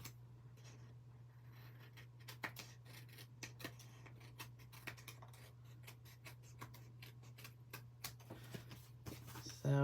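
Scissors snip along the edge of patterned Christmas cardstock in a series of quick, close, crisp cuts over a steady low electrical hum, with a louder thump at the end.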